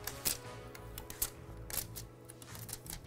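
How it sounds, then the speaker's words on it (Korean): Protective plastic film being peeled off the inside of a computer case during a PC build, a run of close, soft crinkling rustles and crackles with several sharper tearing bursts. "안에 있는 비닐들을 다 뗍시다."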